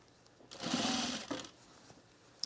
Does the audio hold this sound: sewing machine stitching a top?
yes